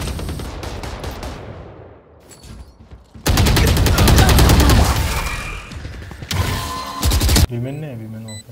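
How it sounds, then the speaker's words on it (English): Rapid bursts of gunfire and blasts from the video game Valorant, with a loud sustained volley in the middle and further sharp shots after, mixed with game sounds and brief talk. "Swarm grenade out."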